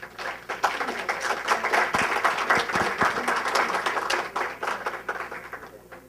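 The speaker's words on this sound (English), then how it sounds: "a round of applause would be appropriate" An audience at a candidate forum claps as the candidates take the stage, a full round of applause with distinct individual claps, holding steady before thinning slightly toward the end.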